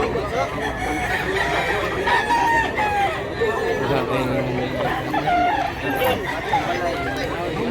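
Roosters crow amid a busy chicken market in Mantalongon, Barili, Cebu, their drawn-out calls rising over constant crowd chatter and nearby voices.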